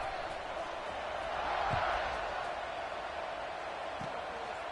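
Steady crowd buzz filling a football video game stadium at Florida, a broad continuous roar that swells slightly midway, with a faint thud or two underneath.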